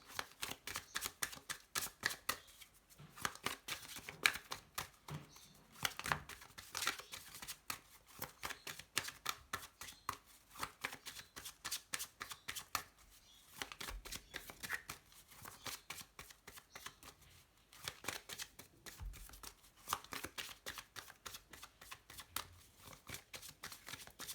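A tarot reading deck being shuffled and cut for a reading, with steady, rapid riffling card flutter that runs almost continuously and close to the mic, broken by a few short pauses and dull taps.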